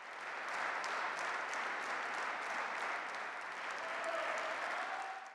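Sustained applause from a crowd at a state award ceremony at the presidential residence, a dense, steady wash of clapping that runs unbroken through the whole stretch.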